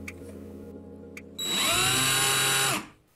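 A cordless drill driver holding a thin bit fitted into a plastic tube in its chuck spins up close by after a quiet stretch. It gives one loud, steady whine of about a second and a half, then stops.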